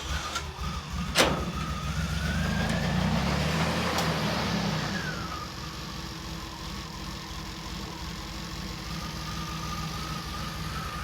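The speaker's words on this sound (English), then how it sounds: "So as cruddy as this sounds, that's actually a good running DeLorean." A DeLorean time machine replica's engine idles roughly and steadily close by after start-up, a low uneven rumble with a faint whine and a couple of sharp clicks early on.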